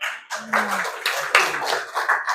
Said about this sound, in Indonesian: Tepuk tangan tuh Raffi dulu